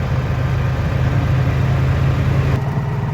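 A tractor loaded with bricks chugs along the road with a steady low rumble throughout, loud and close, with a slight shift in tone near the end.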